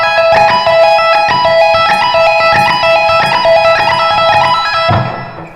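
An electric guitar plays a quick five-note pattern on one string in a lick, picked notes repeating in a fast steady cycle, loud and close, with the last note ringing out and fading.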